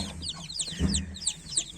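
Chickens cluck and chirp in a busy cluster, with several birds making short rising calls close by and a low thump in the middle.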